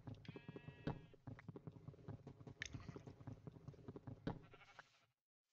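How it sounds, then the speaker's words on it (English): Minecraft sheep bleat several times in the game, nasal wavering cries over munching and clicking game sounds, close and clear, without speech. "Ooh, sheep."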